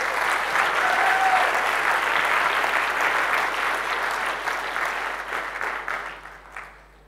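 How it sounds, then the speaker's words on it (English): Sustained audience applause at an IIS talk by Meera Shenoy, a dense steady clapping that fills the room, holding strong for several seconds before thinning and fading toward the end. "Give him a bigger clap."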